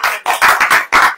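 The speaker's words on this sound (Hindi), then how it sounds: "ताली बजाइए" Church congregation clapping in brief bursts during a sermon, four or five loud, close rhythmic pulses of many hands, with no voice over them.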